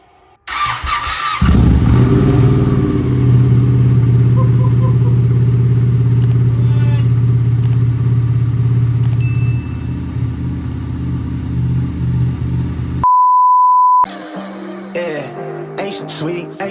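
A 2017 Ducati 959 motorcycle, being rebuilt after a wreck, cranks and fires up, then settles into a loud, steady idle for about ten seconds. Near the end the engine cuts out and a brief tone is followed by music.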